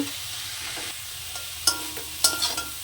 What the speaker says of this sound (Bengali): এবার নেড়ে চেড়ে খানিকক্ষণ এটাকে শাকটাকে সেদ্ধ করে নেব